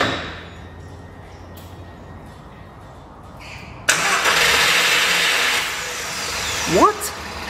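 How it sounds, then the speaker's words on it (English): A car engine cranks and catches abruptly, then settles into a steady idle rumble, close by, with quiet surroundings before it starts. "I am going to start the engine now."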